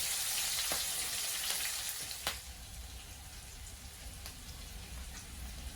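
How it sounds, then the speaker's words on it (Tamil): Chopped onions sautéing in a pan for Chinese-style chili chicken, a steady soft sizzle with occasional light crackles and scraping stirs, fairly close, with no talking. "இந்த வெங்காயம் வதக்கி கொண்டு"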